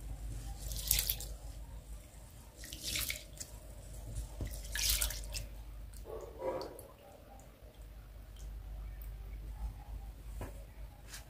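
Rice is washed by hand in water for a lentil khichuri, giving intermittent close splashes, swishes and drips that come and go over a low background hum.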